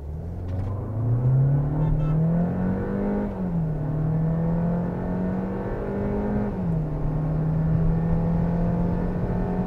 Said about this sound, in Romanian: vreau să mai facem o dată testul ăsta de 0-100, când cutia este în modul sport și nu în modul manual